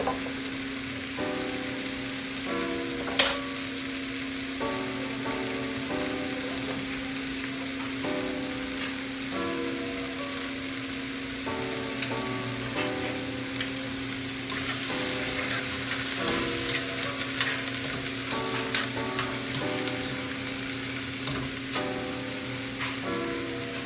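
Bean sprouts sizzle and crackle in a hot pan for chicken chow mein, stirred now and then with scraping clinks over a steady frying hiss, close up and without talk.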